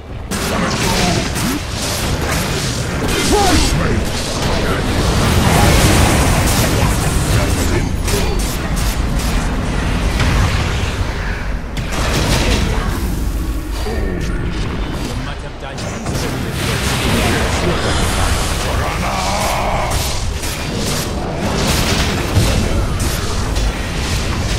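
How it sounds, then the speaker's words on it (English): Dota 2 battle at Dire's middle tower under attack and destroyed: a dense, continuous barrage of booms, impacts and spell bursts with clattering mechanical hits, loud and sustained throughout. "Dire's middle tower has fallen."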